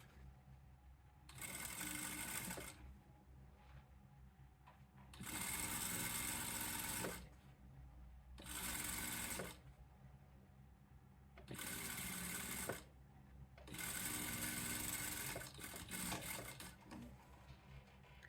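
A sewing machine bar tacks trailrunning gaiters in five separate loud, steady whirring runs of one to two seconds each, broken by short quiet pauses.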